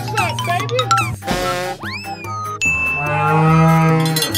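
A cow lowing in a few long, loud moos close by, with bright chiming toy-like sound effects in between, without any talking.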